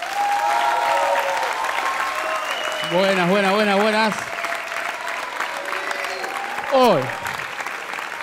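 Audience applause welcomes a comedian onto a stand-up comedy stage, a loud, continuous wash of clapping under his voice as he greets the crowd, with laughter-like vocal bursts along the way.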